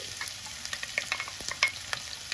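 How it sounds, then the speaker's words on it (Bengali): Minced onion frying in oil flavoured with cardamom, sizzling at a low, steady level with scattered crackles and brief stirring clicks, no voices. "এখন এর মধ্যে আমরা পেঁয়াজ কিমাগুলো দিয়ে নিচ্ছি।"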